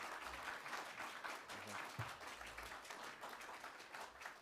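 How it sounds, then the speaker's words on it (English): Audience applause fills a room at a reparations convention, a dense, steady wash of many hands clapping for several seconds without pause. "Please give him a round of applause"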